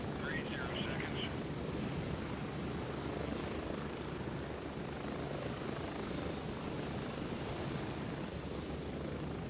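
Helicopters fly past in the Gray Zone Warfare video game, a steady loud rotor drone filling the whole stretch without a break.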